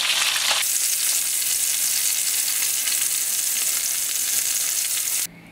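Loud, steady sizzling of chicken frying in hot oil in a pot, continuous and close, cutting off abruptly near the end.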